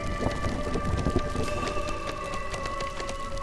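Thunderstorm in the strategy game Against the Storm, heavy continuous rain with low rumbling thunder rolling underneath and sustained tonal game ambience, no voices.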